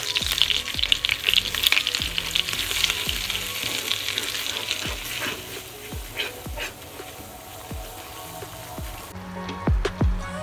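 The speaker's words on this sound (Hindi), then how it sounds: "इसके अंदर बटर थोड़ा सा मेल्ट कर लेंगे" Butter melts and sizzles in a pan as the base for a cheese sauce, a busy close crackle with frequent sharp pops and spatters, easing slightly midway before flaring up again near the end.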